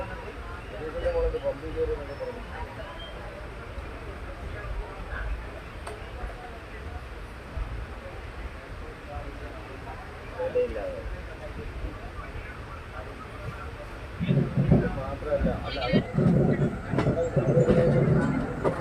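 A train pulls out of Kazhakkoottam railway station in Kerala on a Punalur to Nagercoil run, with a steady low rumble and faint clicks that grow into louder rattling, clattering carriage noise near the end.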